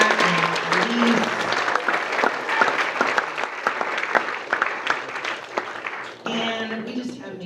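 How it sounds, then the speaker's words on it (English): A school writers' week audience gives a steady round of applause for two returning graduate guest speakers, dense clapping that runs several seconds before a voice begins talking near the end. "one more round of applause for Tamar and Elise"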